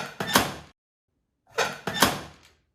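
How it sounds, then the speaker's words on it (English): A large crowbar worked by hand for Foley, giving a metallic squeak and closure sound in two separate bursts, the second longer with a double peak, close and clear with silence between. "I just wanted to provide like a metal squeak and then like a closure sound"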